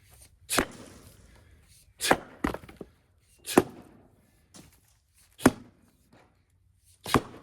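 Five sharp, heavy axe strikes split firewood at a steady pace, each a loud close thwack followed by a brief crackle, no voices.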